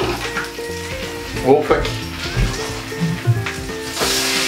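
A pancake and bacon sizzle in a frying pan with a steady crackling hiss. The pan is close and loud, and voices and clatter from the kitchen are heard over it.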